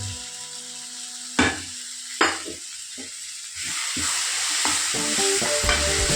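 Potato masala, seasoned with salt and turmeric, is sautéed in a pan: two sharp spatula knocks and a few scrapes, then a rising, continuous sizzle with busy stirring.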